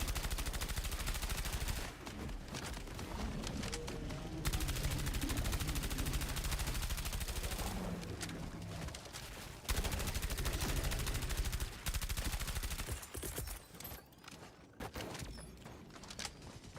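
Rapid gunfire from a weapon in the video game Helldivers 2, dense bursts running nearly continuously with brief breaks, mixed among other game effects.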